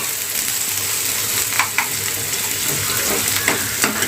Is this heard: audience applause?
no